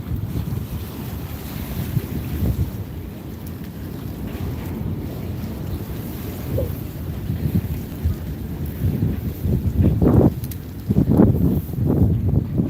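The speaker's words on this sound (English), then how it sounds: "there's still some wind coming up this way that swirls back around, and it's kind of chilly" Wind gusting outdoors on a chilly fishing outing, a steady loud rumbling roar buffeting the microphone, building stronger toward the end with no voices.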